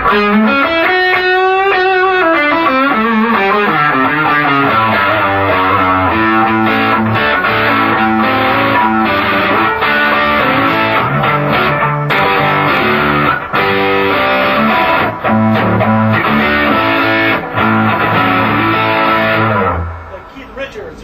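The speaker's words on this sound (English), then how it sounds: "Next one is a tube drive." Electric guitar played through a Line6 DM4 distortion pedal on its tube drive setting at a product demonstration, a loud, saturated run of sustained chords and notes for about twenty seconds before cutting out.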